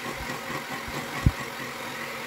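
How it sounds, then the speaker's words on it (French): An electric mixer whisks egg yolks and sugar for tiramisu, giving a steady, even motor hum with one brief knock partway through. "on fouette jusqu'à obtention d'une couleur blanche de notre mélange"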